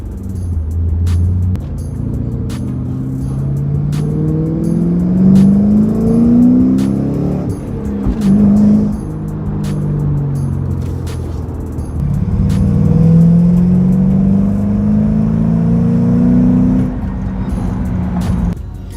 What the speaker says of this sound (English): I don't know what it is about these Ford V8s that sound so amazing